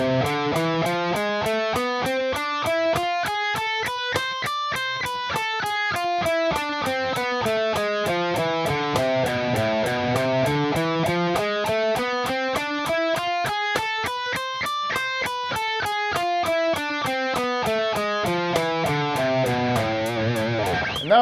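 Electric guitar picking a rapid, even run of 16th notes from the lowest note up and back down in repeating sweeps, steady and close with a distorted, effects-processed tone, no talking.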